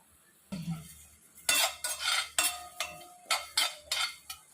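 A utensil repeatedly scraping and stirring curry leaves dry-roasting in a metal pan, a steady series of rattling, rustling strokes with no talking.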